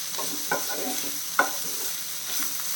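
Chicken fry with coriander leaves being stirred in a pan, a steady sizzle broken by a few scraping spoon strokes, close and moderately loud, with no voices.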